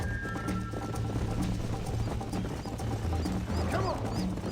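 A horse gallops in Red Dead Redemption with a steady clip-clop of hooves over an ambient game background, the pace even and continuous throughout.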